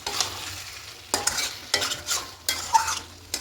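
Chicken and capsicum stir-fried in a pan for chicken kosha, with repeated scraping stirs and a steady sizzle between them, close and fairly loud, no voices.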